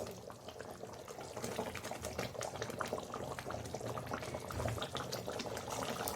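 Mutton kofta curry simmers in a pot, a dense continuous bubbling and crackling hiss that stays fairly even and close throughout, with no voices.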